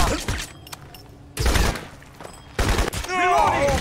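Gunfire in Crysis, several loud bursts of shots with booming impacts separated by short lulls, mixed with shouted combat voices.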